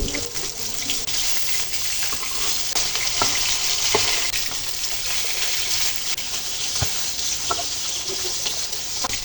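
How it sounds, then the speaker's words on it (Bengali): Grass carp fish pieces sizzle and spit in hot oil in a pan, a continuous bright frying hiss with scattered sharp pops and clicks as the pieces are turned over. "আর এক পাঁচ ভেজে নিব উল্টে দিব মাছগুলো"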